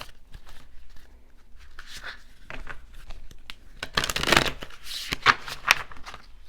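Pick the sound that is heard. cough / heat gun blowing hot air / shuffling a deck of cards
shuffling a deck of cards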